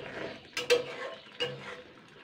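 Dal being stirred in a cooking pot with a utensil: a few short scraping clinks at irregular intervals against a soft background, fairly close and clear, with no talking.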